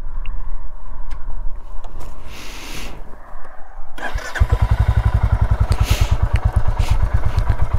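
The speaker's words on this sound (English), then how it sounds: "And let's fire her up and have a listen to the exhaust." Royal Enfield Classic 350 single-cylinder motorcycle with its stock exhaust, started up about halfway through and then idling with a loud, close, steady rapid thumping pulse.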